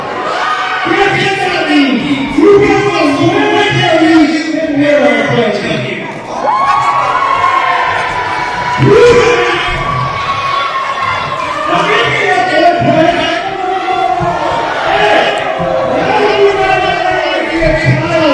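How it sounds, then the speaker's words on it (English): Loud, dense crowd at a live pro wrestling event cheers, whoops and shouts continuously, a commentator's voice running over the roar throughout. "Listen to this crowd. They want to see it, Chris."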